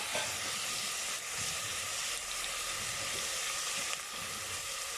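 Onions fry with a steady, dense sizzle in a pressure cooker while chicken biryani is being made, a constant close hiss broken only by faint scraping of a stirring spoon.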